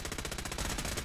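Rapid automatic gunfire in Fallout 4, a fast, regular burst of loud, evenly spaced shots that fills the whole short moment.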